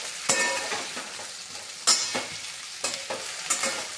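Eggplant pieces fry in hot oil with a steady sizzle, and a spoon or spatula stirs them in the pan in several sharp scraping strokes spread through the clip.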